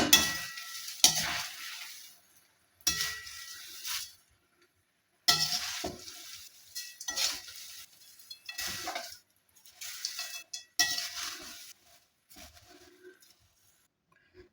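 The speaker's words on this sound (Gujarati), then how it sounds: "તો હવે એમાં આપણે શેકેલા પણ ઉમેરી દઈએ બરાબર મિક્સ કરી લઈએ" Roasted poha chivda mixture being stirred in a pan comes through as bursts of dry rustling and scraping separated by quiet gaps, close and fairly soft, with no voices.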